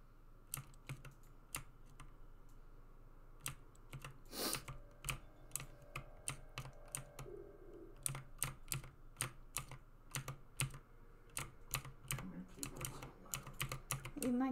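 Computer keyboard typing in bursts of quick keystrokes during an Among Us game session, close and fairly faint, with a few louder clacks and some faint background sound, no talking.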